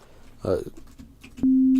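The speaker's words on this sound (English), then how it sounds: "make sure that you got yourself a sine wave" A steady pure sine-wave sub bass tone from the Serum synthesizer kicks in near the end, loud and constant, after a few short spoken words.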